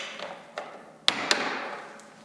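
A piece of a paint rack being knocked loose: a few sharp taps and knocks with ringing decay, two louder strikes in the middle, close and alone.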